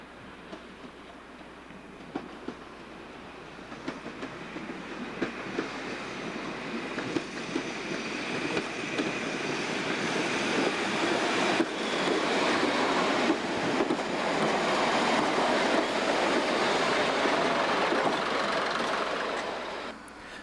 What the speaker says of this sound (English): Here's a British Rail DMU arriving at the very rudimentary station at Sheringham